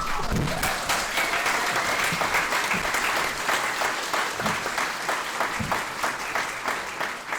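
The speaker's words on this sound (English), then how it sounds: "we have another round of applause for everybody" A school-forum audience in a high school hall gives a sustained, dense round of applause, even and fairly loud throughout, with no talk over it.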